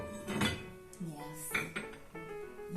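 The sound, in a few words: Portuguese ceramic porcelain plates being handled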